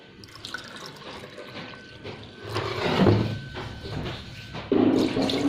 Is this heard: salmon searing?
no